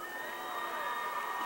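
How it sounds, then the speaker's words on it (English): Crowd noise from the stands at a high school football game between Santana and Mt. Miguel in Spring Valley, a steady wash of applause and cheering at moderate distance with no clear individual voices. "A big round of applause."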